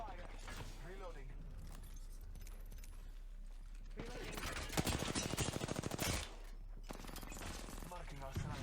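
Apex Legends gunfire: a dense, rapid burst of automatic shots cracks out in the middle, set among ongoing game sounds, with brief voices near the start and end.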